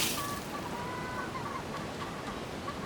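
Red jungle fowl, wild chickens kept in a scratch pen, give a few brief honking calls over steady outdoor background noise, fairly close.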